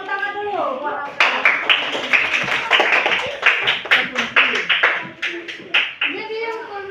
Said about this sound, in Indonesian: tepuk tangan dulu buat Alka